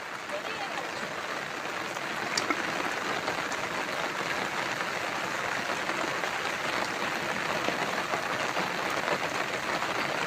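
Heavy rain falls on a Sundarban river during fishing for parshe fish and prawns, a dense, steady hiss of drops that stays even and loud throughout.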